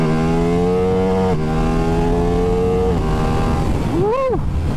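A Ducati Diavel V4 motorcycle accelerates hard in first gear, its loud engine note climbing through stepped gear pulls, then dropping and surging again as the rider gets back on the throttle near the end.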